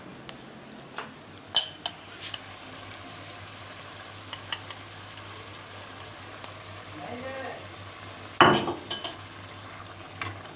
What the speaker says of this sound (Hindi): उसके बाद मैंने टमाटर और दही भी डाल दिया है।